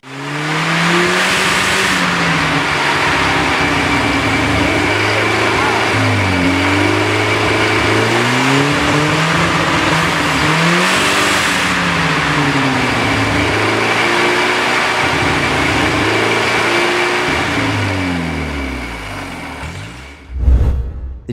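An A-Series car engine runs loud and close, its revs rising and falling repeatedly in smooth sweeps before cutting off abruptly at the end.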